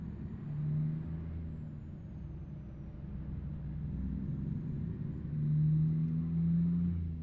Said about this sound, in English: gotta lower the volume on the turbo on this truck. Sounds like it's about tore up.